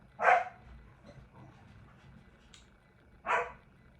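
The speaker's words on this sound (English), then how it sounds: "Look at my dog barking" Two sharp dog barks about three seconds apart, close by, with quiet background between them.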